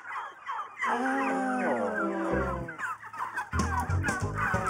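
Turkeys gobble and cluck on a farm: a close, rapid run of warbling gobbles followed by more bursts of fowl calls, with no talking.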